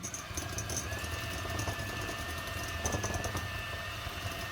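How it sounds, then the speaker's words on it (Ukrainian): An electric mixer whips room-temperature butter in a bowl, giving a continuous, fairly quiet whirring hum with faint rattling throughout. "Беремо міксер і взбиваємо його."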